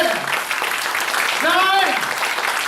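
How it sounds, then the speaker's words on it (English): A church congregation gives an offering of praise with sustained clapping, a steady wash of hand claps filling the room while a voice speaks over it. "Let us clap offering to the Lord."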